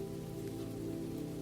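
Rain falls steadily on a surface as a soft, constant hiss at night, faint and even, with no voices and no distinct drops standing out.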